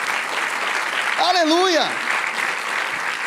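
A church congregation applauds in a steady, dense wash of clapping that continues throughout, while a voice calls out over it.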